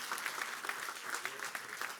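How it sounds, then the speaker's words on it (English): Applause from the crowd at the AsiaBerlin Summit 2022 as a 25th anniversary cake is brought out, steady clapping at moderate distance with a faint voice underneath. "it's coming right there with a big round of applause"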